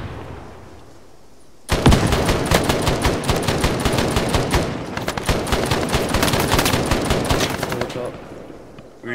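Heavy automatic gunfire in a military video game, with dense machine-gun bursts and overlapping rapid shots starting abruptly and continuing loud and sustained for several seconds.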